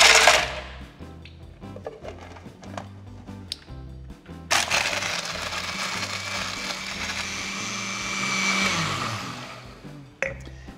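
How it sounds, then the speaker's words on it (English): A blender whirs through a frozen piña colada of pineapple juice and cream of coconut, starting with a short burst of crushing, then settling into a loud, steady blend for several seconds before winding down. "And we drop this into the blender."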